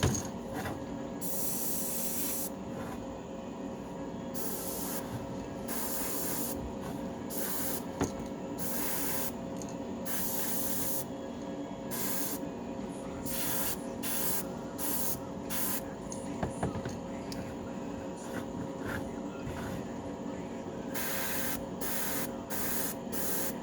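An airbrush sprays Createx paint onto a fishing lure in short hissing bursts, close and fairly loud, starting and stopping in an irregular rhythm over a constant background hiss, with no voices.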